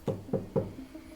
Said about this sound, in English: a knock comes at the door